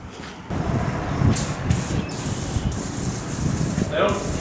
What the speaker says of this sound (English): Car wash time, baby.